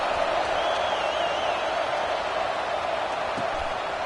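A football stadium crowd murmurs in a steady, dense wash of noise just after an extra point, subdued rather than cheering, with no clear applause bursts.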